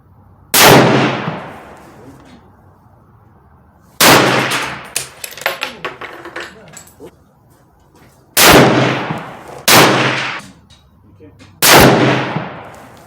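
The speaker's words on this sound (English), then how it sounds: "I'm gonna continue to break in the barrel and sight in the scope" A Tikka T3X Lite rifle fires five loud, sharp shots at an outdoor range while a scope is sighted in, each crack followed by a ringing decay, spaced a few seconds apart with clinking sounds between them.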